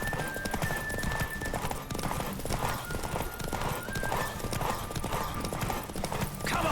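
A horse galloping in a race in the video game The Witcher 3, a rapid steady clip-clop of hooves with a brief whinny, running continuously over in-game ambience.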